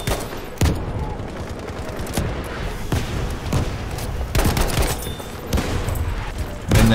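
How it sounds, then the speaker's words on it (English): Rifle and automatic gunfire in the shooter Battlefield V, loud and close with sharp repeated shots and bursts over a constant roar of battle, with one heavier blast near the end. "Shooting us from behind."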